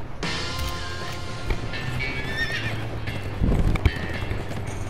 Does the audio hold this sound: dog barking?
no